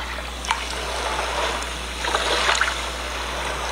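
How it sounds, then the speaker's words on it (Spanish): Steady sea-wave ambience played as background sound by a focus app, a continuous wash of water with soft swells and small splashes, no talk. "puedo activar las olas de mar"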